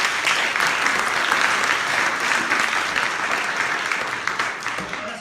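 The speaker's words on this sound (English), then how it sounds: "A round of applause again" An audience in a room gives a round of applause, a dense, steady wash of clapping hands that holds evenly for several seconds before starting to thin at the end.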